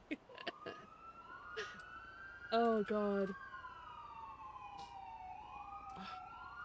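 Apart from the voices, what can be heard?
police sirens in a video game (GTA V NoPixel roleplay)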